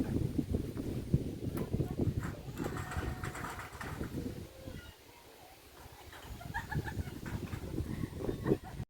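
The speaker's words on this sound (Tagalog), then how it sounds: "Ang hangin, lakas ng hangin, ang ginaw." Strong, cold wind at Hagna, Bohol buffets the microphone with a steady low roar, while a person speaks over the gusts.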